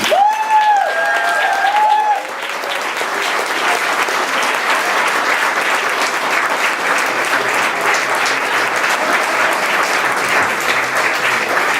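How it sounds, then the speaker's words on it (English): An audience breaks into sustained applause, loud and dense for over ten seconds, after a brief amplified voice at the start. "Can we have one more round of applause for all?"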